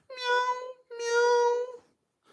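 Two long, tonal meows with a pause between them, close and clear against silence, most likely a person imitating a cat.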